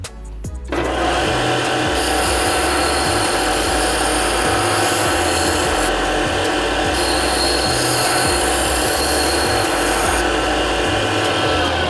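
A belt sander grinds a small metal tab for a VW Bus restoration, a steady loud abrasive roar with a rasping hum that runs continuously after a brief start, close and with no talk.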